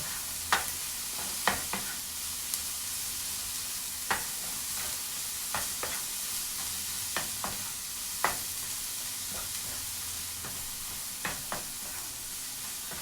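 Finely chopped, almost ground cauliflower frying in oil in a pan, a steady close sizzle with scattered scraping knocks of a spoon stirring it.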